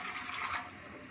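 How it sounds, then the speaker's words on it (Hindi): Water is poured a little at a time, making a steady, close splashing rush with no talking. "तो गाइस पानी डालते हैं थोड़ा थोड़ा।"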